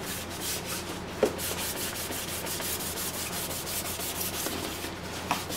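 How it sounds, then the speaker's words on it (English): A Star Wars sandtrooper helmet being sanded by hand to dull its shiny finish, a close, steady back-and-forth rasp in rapid even strokes with a couple of small knocks. "Let me go sand that out."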